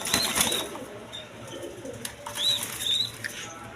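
Silver racer pigeons flapping their wings, short fluttering bursts close by with faint chirps, over a steady background hum.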